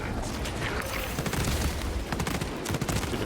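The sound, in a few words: heavy bolt rifle gunfire from a video game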